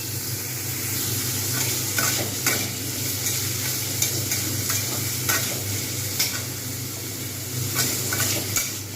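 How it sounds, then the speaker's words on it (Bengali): Potatoes frying with cumin in a pan for a Bengali ridge gourd and lentil dish, a steady sizzle broken by repeated scraping stirs of a spatula, loud and close with no talking. "একটু ভালোভাবে ভেজে নেব।"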